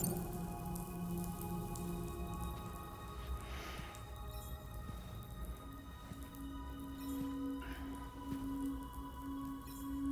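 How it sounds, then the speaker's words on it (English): Rain falls steadily in the video game Death Stranding 2, a constant soft patter of drops that lasts the whole stretch, with faint tonal music lines underneath and no talk. "Those raindrops are falling on my head."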